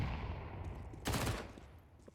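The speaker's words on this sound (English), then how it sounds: "Long-range MP9 frag goes the way of Nyx to finally eliminate DRG" A short burst of MP9 submachine gunfire in a Counter-Strike match heard at moderate distance, a quick rattle of rapid shots over quiet game ambience.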